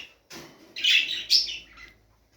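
Budgerigars chirp in a short burst, a pair of bright, close calls rising over quiet room tone, set in a breeding cage where a green show male has just been paired with a grey female.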